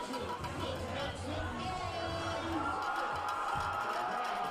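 Homecoming-night crowd at a high school football game, South Mecklenburg versus Olympic, a steady wash of chatter and scattered cheers filling the stands, with a faint voice over the noise.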